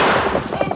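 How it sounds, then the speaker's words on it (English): A radio drama sound effect of a Colt revolver shot, a loud, booming report with a broad rumbling tail that fills the short moment. "An answering shot from the masked man's Colts broke the chief's gun stock"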